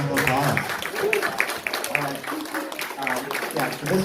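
Audience applause for hackathon winners at a fun hackathon weekend at Hacker Dojo, steady clapping mixed with voices and cheers throughout.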